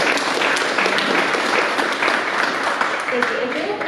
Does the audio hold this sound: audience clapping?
yes